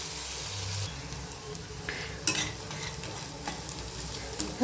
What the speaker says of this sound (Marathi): छान असा ना मऊ होईपर्यंत आपण याला परतवून घेऊया